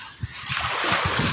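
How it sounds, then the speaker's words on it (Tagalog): Moderate sea waves wash and splash along the Manila Bay shore, a steady close rush of water with soft repeated low surges, and no talk over it. "Katamtaman lang yung alon, hindi malakas."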